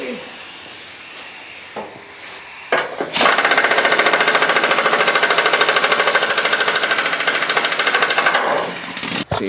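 A pneumatic impact wrench rattles loudly and continuously for several seconds, tightening new blades on a Cub Cadet LGTX1054 mower deck after a few short taps and clanks, then stops with a final burst.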